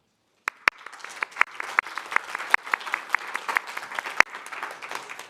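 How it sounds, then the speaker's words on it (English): A small audience breaks into applause after a sharp first clap, scattered hand claps building into a steady patter for several seconds. "round of applause for David McGavin."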